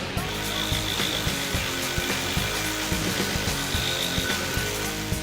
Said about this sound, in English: The 18-volt LXT brushless Recipro saw